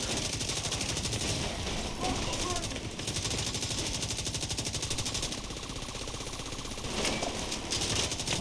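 Rapid, dense automatic gunfire from The Division 2, a near-continuous rattling burst of shots that keeps up loudly for the whole stretch with only brief dips.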